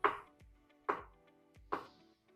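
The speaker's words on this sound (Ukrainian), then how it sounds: "Оливки нарізаю теж кільцями." Three crisp knife chops slicing olives into rings land on a cutting board at an even, unhurried pace, each ringing briefly before quiet.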